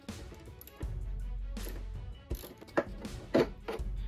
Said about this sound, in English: proceed to use a socket to remove the nut securing the wheels